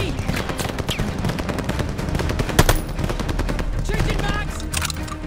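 Sustained automatic machine gun fire in the Call of Duty Vanguard campaign, a dense continuous rattle of rapid shots with louder bursts, loud and close, with brief shouted game voices mixed underneath.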